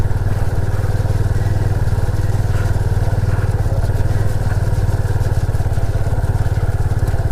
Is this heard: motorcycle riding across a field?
yes